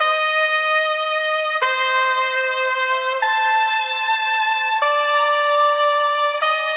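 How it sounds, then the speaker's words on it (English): A bright, buzzy horn sample holds long notes that step between pitches, processed with effects, steady and fairly loud with no talking. "I found a moody horn sample, pitched it to fit the beat, and added some effects on top"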